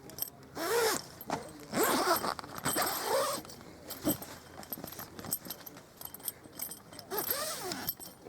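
Zipper being pulled around the fly sheet of an Outhaus Grand solo 2 swag tent, several drawn-out rasping zips in bursts with short pauses between, close and clear.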